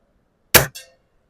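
Air rifle pellet striking a brass RF filter cavity target, a single sharp metallic clang with a short ringing follow-up, loud and isolated against silence.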